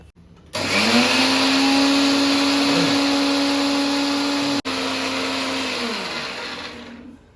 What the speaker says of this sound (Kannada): ಮಿಕ್ಸರ್ ಜಾರಿಗೆ ಹಾಕಿ ಇದನ್ನು ಸಹಿತ ನುಣ್ಣಗೆ ರುಬ್ಬಿಟ್ಕೋಬೇಕು